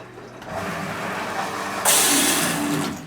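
Motor of a well pump running just after priming, with a steady mechanical whir that turns louder and harsher with a hiss partway through, close by.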